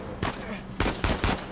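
Gunfire from a powerful gun in the video game Uncharted 4, three loud, close bursts of shots in quick succession.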